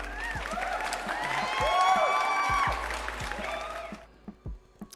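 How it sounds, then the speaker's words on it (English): Applause and cheering from a live-stream audience swell for about four seconds, dense and bright with a tonal, effect-like sheen over it, then cut off into quiet with a few scattered soft knocks. "Another round of applause for the people in the chat."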